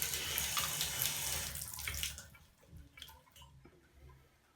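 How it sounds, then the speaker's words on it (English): Hot water runs from a Mixet faucet with a replaced handle and cartridge, a strong close hiss of flowing water that cuts off after about two seconds, leaving faint drips and small clicks. "Getting hot water when I turn it left."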